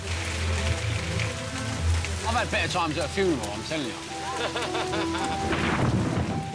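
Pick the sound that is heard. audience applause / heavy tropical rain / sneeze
heavy tropical rain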